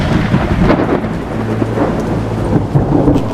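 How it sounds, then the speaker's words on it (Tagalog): Loud thunderstorm with heavy rumbling thunder and steady rain, the low booming rolls continuing throughout without any voices. "Nagkaroon ng malalakas na kulog at kidlat."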